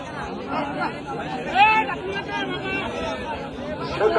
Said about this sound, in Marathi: पब्लिक बघा मित्रांनो फोटो काढण्यासाठी किती गर्दी करते